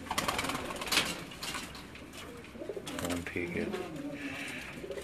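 A pigeon held in someone's hand coos in low throaty phrases and makes brief bursts of wing flapping, heard close, with a few words of talk over it.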